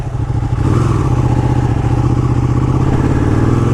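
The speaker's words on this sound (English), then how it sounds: "This bike has a quick shift that I'm pumped to really try out." A 200hp superbike with a quick shifter runs close by, its engine throbbing in a loud, steady pulsing rumble with a fast mechanical rhythm and no talking.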